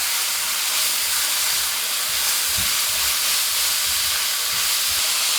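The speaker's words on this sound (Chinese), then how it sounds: "放入炒好的配菜，继续翻炒。" Vegetables being stir-fried in a pan with bean paste, giving a steady, loud hiss and sizzle with a few soft low knocks of the spatula, no voices.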